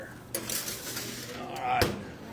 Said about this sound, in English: I'm going to slide this in the oven and let that cook there